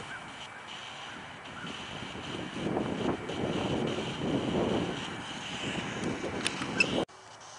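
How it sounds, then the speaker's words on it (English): Wind blowing through a cemetery at night, a rough, gusty rush buffeting the microphone that swells in the middle, with a few sharp knocks near the end before it cuts off abruptly. "So the wind is picking up."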